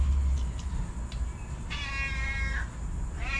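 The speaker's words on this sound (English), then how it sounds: "Let me see if I can shut the cat up for a second." A house cat meows repeatedly in a kitchen where a hogfish is being cleaned, several drawn-out cries, close and fairly loud, over a low rumbling background.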